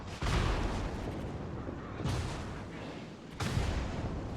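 Heavy naval guns of a Baltimore cruiser firing in World of Warships, three loud booming salvos about a second and a half apart, each followed by a long rumbling roar that fills the gaps between shots.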